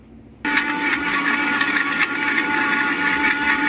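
A mixer grinder blends green chutney with cream and lemon juice, starting abruptly after a brief quiet moment and then whirring loudly and steadily with a grinding rattle to the end, with no talk.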